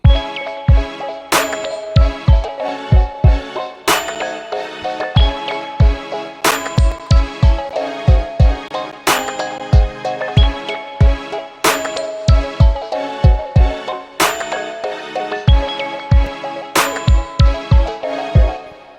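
A bright bell melody rings out over a punchy beat with deep bass hits and crisp percussion, looping in a steady rhythm, loud and clear.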